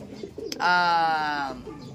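A single racing pigeon coos up close, a warbling throaty call lasting about a second over quiet background with faint rustles.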